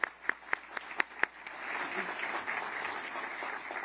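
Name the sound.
applause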